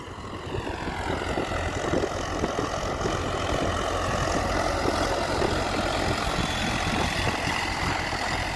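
A Sonalika 750 tractor engine running steadily nearby, with a continuous low rumbling drone and dense mechanical clatter that holds an even level throughout, with no voices.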